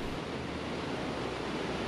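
Roaring water of the Rhine Falls, a large waterfall in Switzerland, makes a steady, dense broadband rush, loud and continuous without a break.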